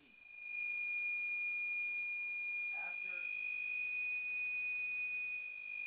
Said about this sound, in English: it sounds like someone is trying to fax something on the phone line that you're on